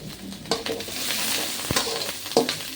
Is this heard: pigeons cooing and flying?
no